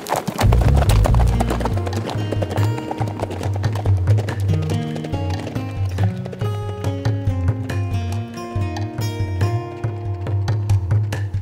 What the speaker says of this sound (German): Xenanda. Reiten wir.